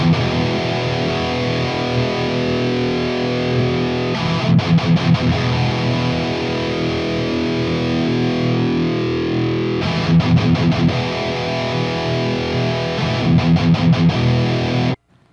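Electric guitar through an EVH EL34 100-watt amp on the red channel, dialed tight and nasty with no boost. Heavily distorted, sustained chords alternate with bursts of rapid palm-muted chugging, loud and up close.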